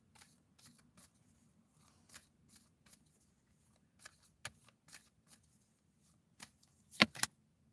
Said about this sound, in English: I'm shuffling. Every day I'm shuffling.